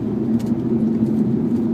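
A car cruising fast along a road, heard from inside as a steady low engine and tire rumble that holds evenly for under two seconds.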